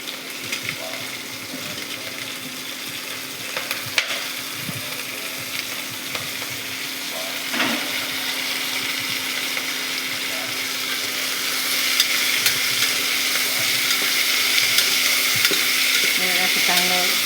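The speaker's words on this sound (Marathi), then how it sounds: "असं चांगलं परतून घ्यायचं त्याला." Chopped green chilies sautéed in a pan at home, giving a continuous sizzle with intermittent stirring and scraping, close up and growing louder and hissier toward the end.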